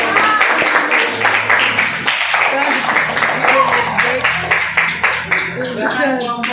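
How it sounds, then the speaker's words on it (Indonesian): Classroom group applauded by students, dense, loud clapping from many hands continuing for several seconds with voices mixed in. "tepuk tangan untuk kelompok."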